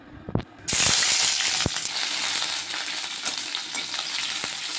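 Onions frying in a pan for Maggi noodles with cabbage, chilli, carrot, beans, potato and capsicum nearby: a few sharp clacks, then a loud, steady broadband sizzle that holds to the end, close and unaccompanied by voices.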